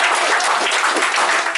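Audience applause fills the room at a comedy show, a dense, steady wash of many hands clapping close and loud for nearly two seconds with no talk over it.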